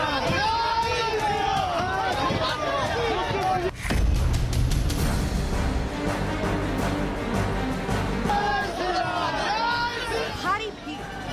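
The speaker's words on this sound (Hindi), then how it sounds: "भारी भीड़" A large, dense crowd at a political roadshow in Nandigram makes loud, continuous chatter and shouting up close, with a burst of rumbling noise and clatter in the middle.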